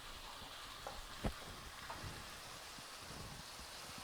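Chicken pieces frying in a pan for chicken fried rice make a soft, steady sizzle like light rain, with a couple of small spatula taps and pops; fairly quiet.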